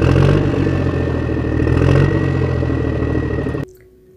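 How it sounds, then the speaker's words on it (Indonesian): A motorcycle engine runs steadily and loud with a dense rumbling idle and slight revving, then cuts off abruptly near the end, leaving a faint hum. "Dan anehnya, kini motor mereka bisa hidup kembali."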